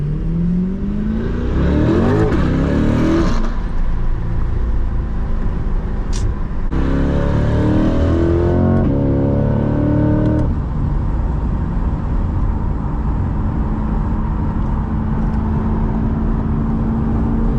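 A loud C8 Corvette revs and accelerates hard from inside the cabin, engine note climbing in repeated pulls before settling into a sustained roar and road drone.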